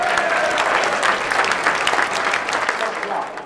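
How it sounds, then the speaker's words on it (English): Applause from an audience at a convention center unicycle show, a dense, steady burst of many hands clapping at close range for a few seconds, fading slightly at the end. "Big round of applause."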